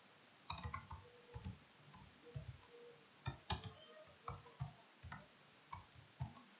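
Typing on a computer keyboard while writing HTML code: a close, quiet series of distinct key clicks in uneven bursts, with small pauses between groups of strokes and no talking.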